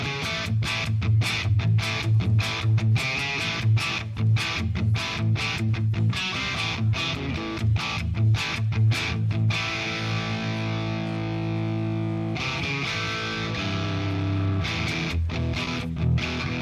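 An electric guitar plays through an amplifier with a bright, ringing clean tone, rhythmic strummed chords followed by sustained ringing notes.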